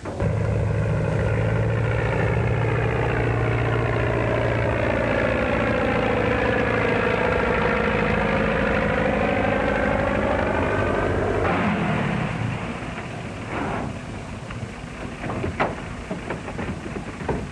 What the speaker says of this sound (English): Plane ready, Bill? Yep. Warm and ready to go